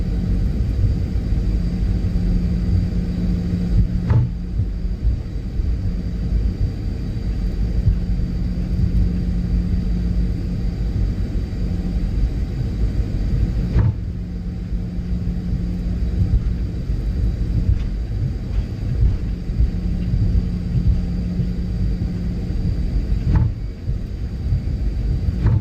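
A PMDG Boeing 737 taxiing on a flight simulator gives a steady loud engine rumble with a constant whine, broken by a few faint clicks.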